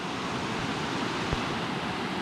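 Along the Tongass Highway near Ketchikan, a shallow stream runs out toward the ocean, giving a steady, broad rush of flowing water that holds even throughout, with one faint low knock partway through and no voices.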